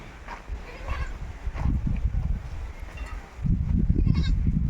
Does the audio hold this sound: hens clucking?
no